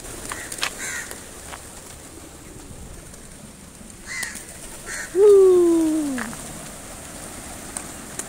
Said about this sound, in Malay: Betapa banyak burung yang kat sini.